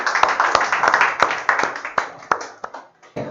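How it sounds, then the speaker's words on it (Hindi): Audience clapping for a student called up to speak at a Bihar board 12th exam felicitation event, a loose, uneven round of claps with sharp individual hand strikes, steady then thinning toward the end. "जोरदार तालियों से स्वागत किया जाए।"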